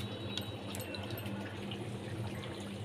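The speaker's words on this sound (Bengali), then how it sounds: "এর মধ্যে আমি মশলার জলটা দিয়ে দিচ্ছি।" Spiced water poured into a pan of Bengali hilsa fish curry with green chilli, cumin and coriander powder, giving a steady close liquid pour and splash that runs throughout without talk.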